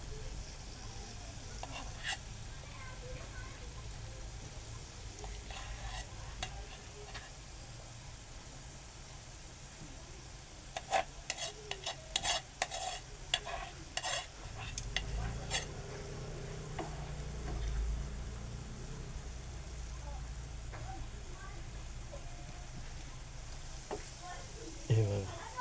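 Urad dal flour bhaji fritters fry in hot oil with a continuous low sizzle, broken midway by a cluster of sharp crackles and taps as batter drops in and is stirred.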